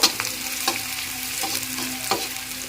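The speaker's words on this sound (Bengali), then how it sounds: "পেঁয়াজ কুচিটা দিয়ে একটু ভেজে নিচ্ছি" Chopped onion frying in a pan on a low flame, with a gentle continuous sizzle broken by several brief spatula-stirring scrapes.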